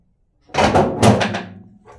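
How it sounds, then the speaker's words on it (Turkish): A door swings open with a solid knock and a short rattle, close and loud, fading over a moment, with no talk over it. "Aç kapıyı."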